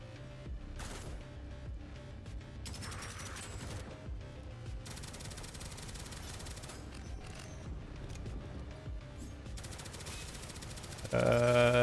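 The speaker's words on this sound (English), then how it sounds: "I'll just shoot in there just in case." Gunfire in a robot-shooting video game, with rapid sustained bursts rattling along under a quiet game soundscape, a sudden louder burst near the end, and no speech.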